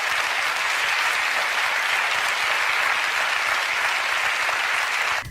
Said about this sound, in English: he stopped long enough for the audience to applaud